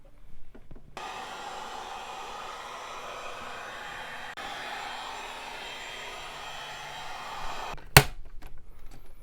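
A heat gun warms a car headlight housing with a steady blowing whoosh lasting several seconds, heard close by and alone. It switches off with a sharp click near the end.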